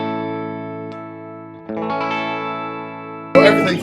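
Electric guitar played through a Vox MV50 AC amp with the tone knob turned fully up to bright, ringing sustained chords that fade, then a fresh brighter jangly strum near the end, close and fairly loud.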